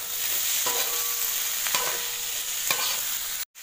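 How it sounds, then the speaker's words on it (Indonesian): Cassava peel hits cooked spice paste in a pan, giving a loud, steady sizzle and frying hiss with a few scraping stirs of a spatula, ending in a brief cut of silence. "Setelah bumbunya matang, kita masukkan kulit singkongnya atau kadedemesnya."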